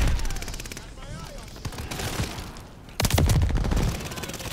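Rapid gunfire bursts crackle at a contested hardpoint in a V2 Rocket shooter game, with a loud flurry of shots after a quieter stretch and voices speaking over the battle.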